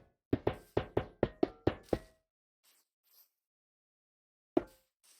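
Iron door placed in Minecraft: a rapid run of about seven sharp metallic knocks in quick succession, followed by quiet and one more lone knock near the end, with no talk.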